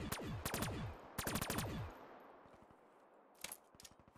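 Rapid gunfire in Call of Duty Black Ops 3 Zombies on a custom map, two quick bursts of automatic shots with echoing decay, a pause, then a shorter burst, fairly near and without talk.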